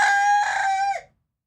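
A person's voice imitates a rooster crow: one loud, close, drawn-out harmonic call of about a second that cuts off abruptly into silence.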